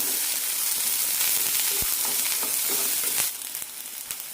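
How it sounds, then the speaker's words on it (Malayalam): Onion, chopped green chilli and garlic sautéing in a pan for a potato stir fry, giving a steady close sizzle with a few sharp stirring clicks, then the frying noise eases off slightly near the end. "പച്ചമുളക് അരിഞ്ഞതും വെളുത്തുള്ളി അരിഞ്ഞതും ഇടാം സവാളയ്ക്ക് ചെറിയൊരു ഗോൾഡൻ കളർ വരുന്നവരെ വഴറ്റി കൊടുക്കണം"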